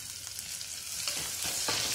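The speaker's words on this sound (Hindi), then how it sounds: "इसे हमें सॉटे कर लेना है।" Onions sautéing in hot oil inside a pressure cooker give a close, steady sizzle, with a few louder bursts of stirring toward the end.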